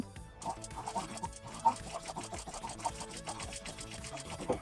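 Sewing machine fitted with a rolled hemmer foot, stitching over seams in fabric with a fast, steady mechanical chatter that runs continuously and close up, with faint background noise.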